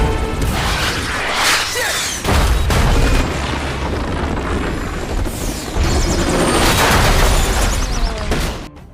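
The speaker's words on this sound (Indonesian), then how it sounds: "helikopter jatuh dan meledak" A military helicopter crashes and explodes in an Iraq war film scene, with loud booming blasts, whooshing debris and a dense crashing rumble that surges twice over several seconds before cutting off.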